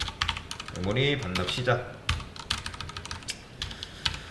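Keys of a computer keyboard are typed in a steady patter of clicks while a person speaks Korean over them, and a few louder isolated keystrokes follow once the talking stops.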